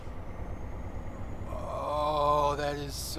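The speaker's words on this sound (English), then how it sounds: "We have a Jake brake sound." Jake brake on a truck in American Truck Simulator: a rising, rumbling engine-braking growl with a stack of harmonic tones that swells loud over about a second, then breaks off into a short hiss like an air release.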